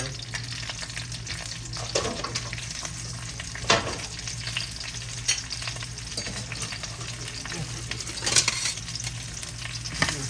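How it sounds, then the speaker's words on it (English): Peppers and onions sizzle steadily in a pan, close and continuous, with occasional scraping and stirring knocks from a soft spatula and no speech. "let's go and get these peppers and onions in this pan"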